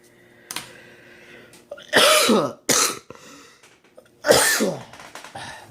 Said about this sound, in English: Sorry, I got a bad cough right now.